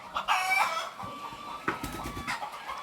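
Chickens and chicks in a poultry coop on a farm in Ghana, with repeated clucks and crowing-like calls, close and fairly loud, in irregular bursts.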